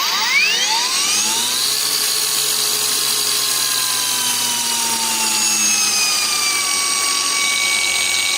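A PATUOPRO angle grinder spins down to its lowest speed setting, its loud steady whine gliding downward in pitch over the first seconds and then holding a constant high motor tone with harmonics throughout.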